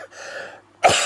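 A man with a cold, blocked sinuses and a tickly throat gives a short throat-clearing rasp and then a sharp, loud cough up close, all within about a second.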